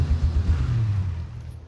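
Car engine in PUBG (PlayerUnknown's Battlegrounds), a low steady rumble that eases off slightly toward the end, with no talk over it.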